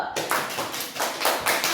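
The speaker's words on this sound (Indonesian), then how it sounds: "tepuk tangan untuk kita semua dulu" A primary school class claps hands together, a dense rapid patter of many palms in uneven bursts, close and lively.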